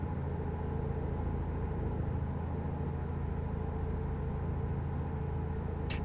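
A DAF truck engine in a PC truck-driving game drones low and steady throughout, like a heavy vehicle cruising, with a brief higher click near the end.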